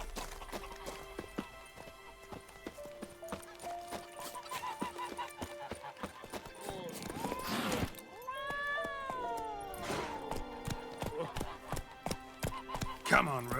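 Roach, Geralt's horse in The Witcher 3, gallops with rapid hoofbeats beneath game music and sound effects, and a voice speaks partway through.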